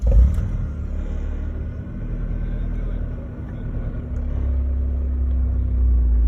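A 2002 Honda S2000 convertible with about 216,000 km on it fires up and settles into a steady, close idle, its low engine rumble continuous and fairly loud throughout.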